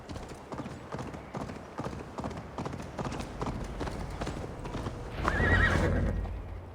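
A horse gallops in Assassin's Creed Valhalla, with a rapid, steady run of hoofbeats close by, then a loud neigh rising near the end. No one speaks.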